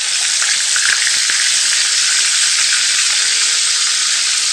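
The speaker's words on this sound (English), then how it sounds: "cut off some butter and put it into the skillet" Butter sizzles loudly in a hot skillet alongside a ribeye steak, a dense, continuous frying hiss heard close up with no talking.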